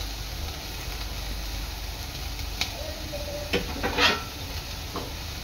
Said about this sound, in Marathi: आपली भाजी आहे ना, ही चांगली 5 मिनिटं परतून घ्यायची आहे